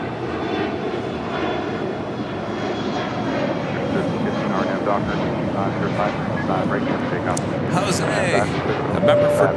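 A jet airliner on flight 1317 to Seattle departs LAX with a loud, sustained engine roar that grows slightly toward the end, with a voice talking over it.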